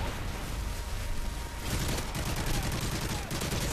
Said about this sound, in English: That's why I was shooting the floor.